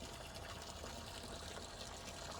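Dirty brown water draining out of a scrap sailboat, a steady, fairly loud rushing trickle that runs unbroken from start to end with no voices.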